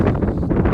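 Brief low buffeting of wind against a microphone, rumbling and gusty.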